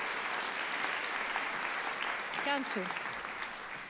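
Sustained audience applause at a jazz award concert, steady dense clapping from a large hall crowd, with a voice speaking briefly over it before it begins to taper.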